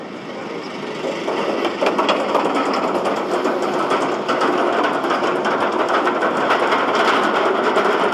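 GateKeeper roller coaster at Cedar Point, ridden from row 4: a loud, continuous roar of wind and rattling track noise builds within the first second or two, then stays dense and steady throughout.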